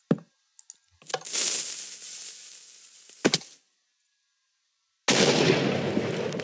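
TNT detonating in Minecraft with the Industrialcraft mod: a few sharp clicks, then a loud broadband blast that fades, a second short crack, and after a pause a sustained, roaring burst of noise that carries to the end. No talking.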